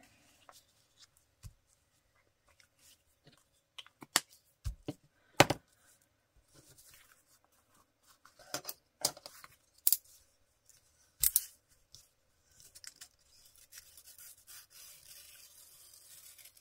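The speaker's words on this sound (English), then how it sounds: "use my knife to just remove the back" A knife slices the back off a paper envelope in scattered short cuts and scrapes, close and quiet with sharp bursts, and gaps of near silence in between.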